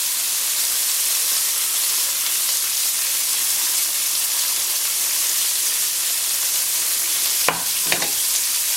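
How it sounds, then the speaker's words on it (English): Tomato paste being stirred into vegetables frying in a pot while braising beef short ribs in red wine: a steady, even sizzle and hiss throughout, with a couple of brief scraping stir sounds near the end. "And stir it around to coat the veggies."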